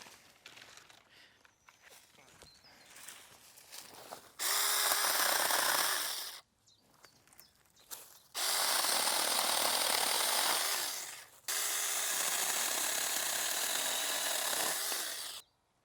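Saker mini chainsaw cutting small pruned branches, three loud buzzing bursts of a few seconds each between quieter stretches of rustling and handling.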